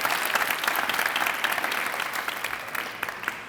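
An audience claps steadily for signing students at a school sign day event, a dense, sustained burst of applause that tapers slightly toward the end with no voices standing out.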